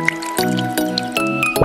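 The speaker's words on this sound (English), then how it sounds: "Squeeze in some lemon juice," Lemon juice squelches and drips in a few wet spurts into a blender of chopped cucumbers, close by, with soft squishing between each squeeze.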